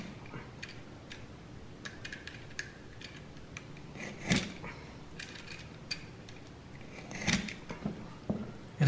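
A rubber horse stall mat for a garage gym is sliced with slow, faint scraping and rubbing strokes, broken by a few sharper ticks and cuts, heard close and without talk.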